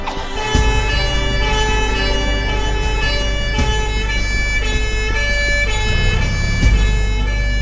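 An ambulance siren blares close and loud over a heavy engine rumble, a continuous wailing tone riding on road noise from a vehicle driving fast behind it.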